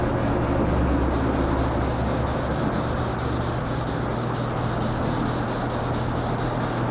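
Wet sanding car paint by hand makes a steady, close, continuous rhythmic rubbing and scrubbing hiss, with even back-and-forth strokes and no voices.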